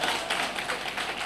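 An audience gives short, dense clapping for a speaker, continuous and fairly loud from start to finish with no talk.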